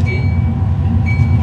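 Union Pacific 844 steam locomotive slowing a train, a loud, steady low rumble with a faint high whine throughout.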